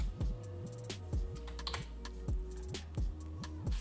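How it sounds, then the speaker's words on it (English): Rapid clicking keystrokes on a computer keyboard come in an uneven rhythm of taps and heavier key presses while designing a print banner. The typing is close and alone over a steady low background hum. "So I'm just gonna hit enter on the keyboard."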